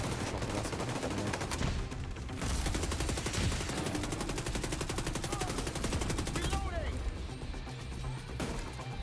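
Rapid PP19 submachine gun fire in The Division 2 rattles in dense bursts almost without pause, loud and close, while someone talks over it.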